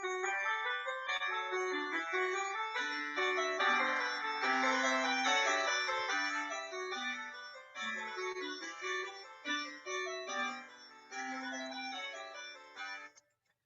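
A canon from Bach's Goldberg Variations plays back from a recording. Dense, steady interwoven melodic lines continue at moderate volume and fade out at the end.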